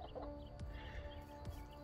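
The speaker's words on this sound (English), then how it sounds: "I decided to walk up here to the chickens" Chickens cluck faintly in a coop with wood-chip litter, giving two soft, brief clucks about a second apart over a quiet background.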